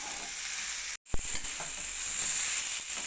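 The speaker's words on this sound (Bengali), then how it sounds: "সয়াবিন এবং আলুকে সমস্ত মশলার সঙ্গে একবার ভালো করে কষিয়ে নিতে হবে" Soybean chunks and potato sautéed with spices in a pan, a continuous bright sizzle close by, broken by one brief gap and a stirring knock, then resuming steadily.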